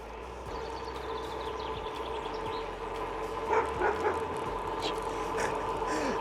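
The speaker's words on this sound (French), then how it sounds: "D'un seul coup, t'as le gros chien qui arrive derrière" A big dog gives several barks and yips close by on a rural gravel road, over the steady rumble of riding and wind, with birds faintly in the background.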